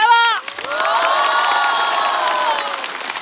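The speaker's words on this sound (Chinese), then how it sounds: "再次把热烈的掌声送给张俊。" A stand-up comedy show audience cheers and applauds loudly, a dense steady wave of clapping and whoops filling the room after a brief shout at the start.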